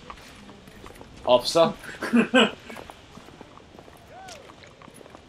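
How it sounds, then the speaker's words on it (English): Horse hooves clip-clop along a street in the video game The Order: 1886, a short run of clustered steps heard close, while someone speaks briefly over them. "A horse."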